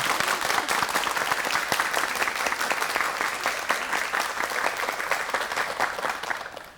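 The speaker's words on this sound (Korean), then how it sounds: "부부 강사의 강의 큰 박수로 청해 주시기 바랍니다." Studio audience on a Korean morning talk show gives sustained, dense applause that fills the whole stretch and fades slightly toward the end, welcoming a married couple of lecturers.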